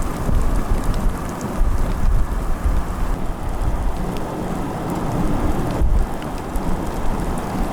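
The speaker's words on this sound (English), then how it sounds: "What a storm." A thunderstorm with heavy rain during a tornado near Meade, Kansas, in May 2019: a dense, steady roar of downpour with low rumbling underneath, loud and continuous with no voices.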